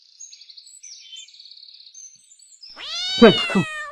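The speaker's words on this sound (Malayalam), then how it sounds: "ആടെ പൂച്ചയാണല്ലേ, മനുഷ്യനെ പേടിപ്പിച്ചോ?" Faint high chirping gives way to a single loud, close cat meow, drawn out with a rising and falling tone.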